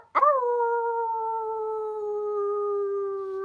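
A person imitates a wolf howl with one long, steady, sustained howling note that starts abruptly and holds clearly and loudly, close to the listener, with no other sounds.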